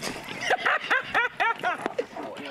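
A trained police dog barks close and loud in a quick burst of sharp, rhythmic barks lasting a couple of seconds.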